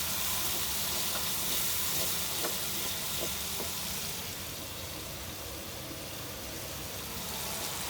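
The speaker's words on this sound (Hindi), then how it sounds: "मसाले को अच्छी तरह भूनते हैं।" Ground spices frying in a pan with chilli powder, turmeric, coriander and salt, giving a dense continuous sizzle up close with faint stirring clicks early on.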